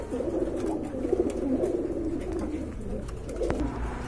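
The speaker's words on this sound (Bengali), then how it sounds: "এটা হচ্ছে আপনার লার্ক কবুতর তাই না ভাই?" Lark pigeons coo softly in a pair at a pigeon market, low rolling murmurs continuing steadily with faint background noise.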